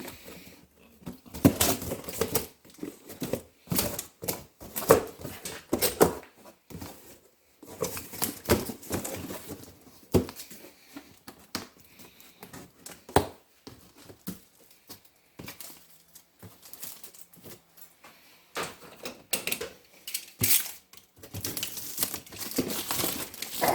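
Packaging on an Oregon PowerSharp CS1500 chainsaw is torn open and tape ripped away, a long run of close crinkling, rustling and tearing bursts with brief pauses between handfuls.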